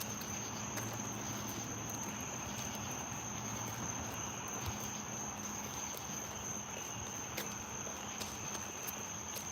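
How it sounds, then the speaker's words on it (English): Crickets chirp near a small lake, a constant high, steady trill with faint regular pulses, heard quietly from a moderate distance against soft low background noise. "But right now we're hearing crickets."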